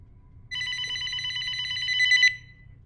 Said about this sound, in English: My phone's fucking ringing.